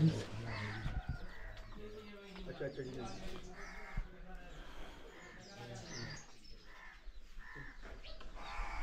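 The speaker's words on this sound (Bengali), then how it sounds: "মুরগি বাচ্চা নিয়ে" A hen with chicks clucks and other birds call around a yard, with people talking nearby and steady outdoor background noise.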